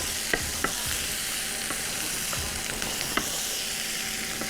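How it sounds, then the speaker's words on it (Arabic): Chicken kofta with colored peppers sautéing in a pan, a dense continuous sizzle broken by a few light utensil taps, close and steady with no speech. "وهحط الكفته بتاعتي تتشوح معايا"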